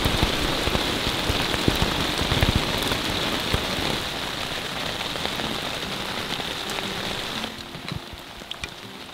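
Steady rain pattering on a taut tent overhead while camping in the remote Canadian wilderness, a dense continuous patter of drops that eases slightly near the end.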